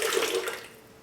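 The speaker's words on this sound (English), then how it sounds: "I'm going to throw some water in just to make sure that we have enough liquid in here" Water is poured into a Magical Butter machine while making cannabis butter, a brief splashing gush that trails off within about a second.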